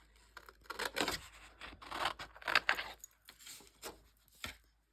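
Scissors snipping around printed paper ephemera in short uneven bursts, close and fairly quiet, with crisp cuts, small pauses and a few rustles as the paper is turned, no one speaking.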